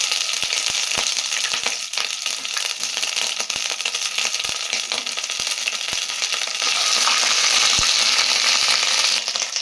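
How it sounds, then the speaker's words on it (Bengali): Ginger paste hitting hot oil with bay leaf and garam masala, a steady loud sizzle and spatter with scattered sharp pops, up close in a home kitchen while cooking mung paneer pulao, and the frying grows louder near the end. "আদাতে জল ছিল, সেই জন্য ছিটকালো।"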